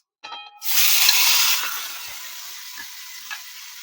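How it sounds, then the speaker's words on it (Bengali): Shrimp marinated in salt and turmeric hit hot oil with dry red chilli and black mustard seeds, bursting into a loud sizzle that slowly settles into a steady frying hiss with a few soft stirring taps. "চিংড়ি মাছগুলো আমি ভালোভাবে ভেজে নিচ্ছি"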